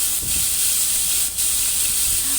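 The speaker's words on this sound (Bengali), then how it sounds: "পেঁয়াজটা দুই থেকে তিন মিনিট আমি একটু ভেজে নেব" Onion paste frying in hot oil with cinnamon and cardamom gives a loud, steady hiss with a couple of brief sharper bursts, close and alone without talk.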